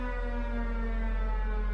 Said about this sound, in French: Le mugissement de la sirène donne l'alerte.